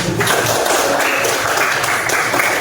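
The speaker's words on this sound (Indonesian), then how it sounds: "Beri tepuk tangan buat kita semua" A classroom of students claps together for a few seconds, a dense, fairly loud burst of applause with no talking over it.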